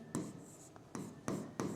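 Chalk or marker strokes on a board during a ring theory lecture: four short scratchy bursts of writing with brief pauses between them, close and fairly quiet, with no talking over them.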